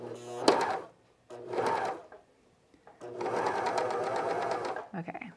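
Cover stitch sewing machine stitching over elastic with a binding attachment, three loud running bursts of rapid mechanical whirring separated by short pauses, close up.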